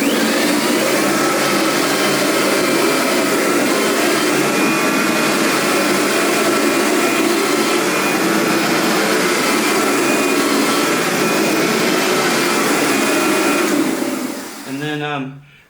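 A Kirby Avalir 2 vacuum and shampooer runs steadily and loudly with a constant motor whine for most of the stretch, then winds down near the end as the motor tone drops.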